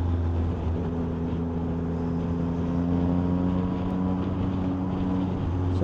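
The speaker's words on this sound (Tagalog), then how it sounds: "Orion to na exhaust. Maganda ng tunog. Sakto lang yung lakas." Yamaha MT-09 motorcycle fitted with an Orion exhaust, cruising on an expressway with a steady, humming engine note and a constant rush of wind noise.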